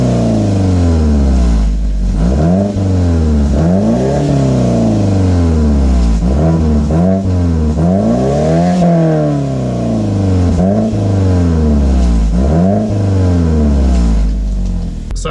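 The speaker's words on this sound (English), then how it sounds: "I think it's higher pitch now that it has the exhaust tips on it." A car with a modified exhaust and added exhaust tips revs repeatedly in loud, close, rising-and-falling sweeps, each rev climbing sharply then dropping back to idle, with no talking.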